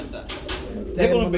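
Soft pigeon coos rise from a busy pigeon market, the birds close by and calling in short bursts amid faint voices.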